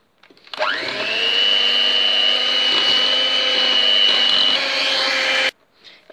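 Red velvet cake batter with a spoonful of vanilla being mixed by an electric mixer: a steady, loud whirring drone that runs for about five seconds and then cuts off abruptly, with no voices.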